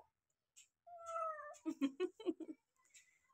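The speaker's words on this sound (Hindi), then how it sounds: "मानी बिल्ली भी आई है।" A house cat meows several times up close in a home kitchen where rotis are being made, drawn-out cries at first and then a quick run of shorter meows, with someone speaking briefly nearby.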